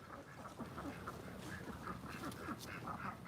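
A big gray farm duck quacks in a rapid run of nasal calls, fairly faint and close under steady outdoor noise, about a dozen quacks over a few seconds.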